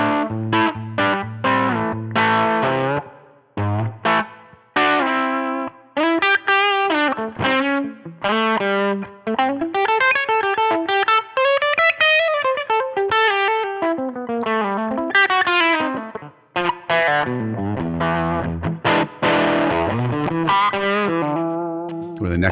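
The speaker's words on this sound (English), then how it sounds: "Let's take a listen to this with full-blown humbucker pickups. So here I have my Gibson SG." Gibson SG with humbucker pickups played through a Helix US Small Tweed amp model: overdriven electric guitar with chords and bending melodic lead lines, gritty and effected with light chorus, loud and continuous with no talking.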